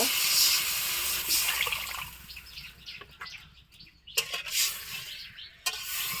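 Water pours into a cooking pot while making a thin fish-fat and potato curry in a home kitchen, a steady splashing rush that softens and breaks into shorter trickles and clatters toward the end.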